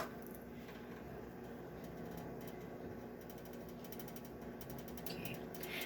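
A stove is switched on in a home kitchen, giving a faint run of light mechanical clicks and ticks over a steady low hiss, with no one speaking.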